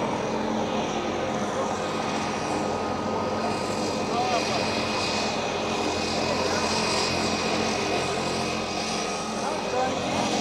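A small propeller plane runs at a central Serengeti airstrip, its steady engine drone filling the air throughout with a constant near rumble and some faint background voices.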